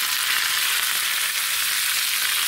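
Curry leaves frying in hot oil in a pan of Andhra-style okra chutney give a steady, even sizzle and crackle, close and continuous with no talking.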